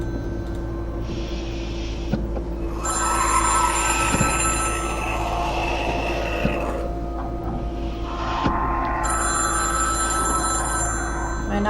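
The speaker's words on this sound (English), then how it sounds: "Phone ringing, quick!" An old-style telephone bell rings in the video game Intruder, in two loud trilling bursts separated by a short pause, over a constant low electrical hum.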